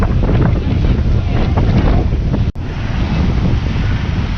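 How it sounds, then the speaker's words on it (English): Heavy wind buffets the microphone in a loud continuous rumble at a Jamaican beach, with surf roaring underneath and a brief dropout midway. "It's so windy."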